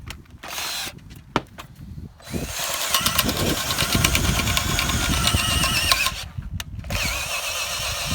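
A power drill with a 3/4-inch bit bores a big pilot hole into wood while building pavilion rafters outdoors, starting with short bursts and then a sustained, loud whining grind, ending with a few more brief spurts.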